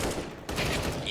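Gunfire in a professional CS:GO match on the Dust 2 map, Navi against Liquid, ending in a headshot: a loud burst of rapid shots that briefly drops out and then resumes as a dense volley.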